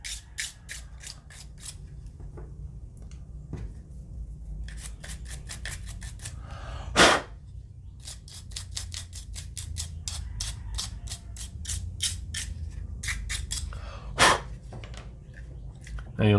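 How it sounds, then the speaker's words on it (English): A nylon brush scrubs Sig P365 pistol parts during cleaning, with quick, crisp bristle strokes in rapid bursts and a couple of louder scrapes, close and dry over a quiet background. "I think we're going to do the whole cleaning assembly with this nylon brush"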